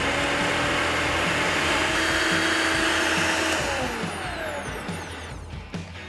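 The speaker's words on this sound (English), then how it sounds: "we're going to put it in the processor and we're going to process it until it becomes like a" A food processor runs loud and steady, blending dehydrated tomatoes into a thick paste, its motor whining with a constant pitch before it slows and winds down near the end.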